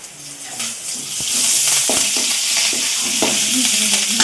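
Curry leaves hit hot oil in a pan with a sharp burst of sizzling that builds and holds loud and close, with scattered clinks of stirring throughout and no talk.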